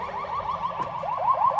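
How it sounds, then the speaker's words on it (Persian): A Polish ambulance siren in Warsaw wails, sweeping up and down in fast repeated cycles, loud and steady, with a brief knock partway through. "فکر کنم ماشین آمبولانسشونه صداش اینجوریه."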